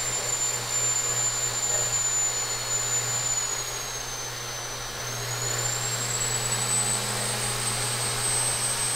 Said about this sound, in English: the sensor is responding accordingly with the increase of the speed of the drilling machine